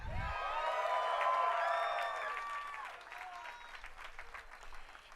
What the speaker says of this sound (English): let's give a round of applause for actor Ron Perlman